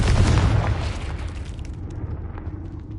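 A Confringo fire spell explodes in Hogwarts Legacy, a loud deep boom that rumbles and fades over a few seconds.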